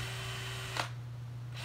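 A power drill runs steadily with a continuous motor whine, briefly broken by a sharp burst midway and a short dip before the hum resumes, loud and close with no voices.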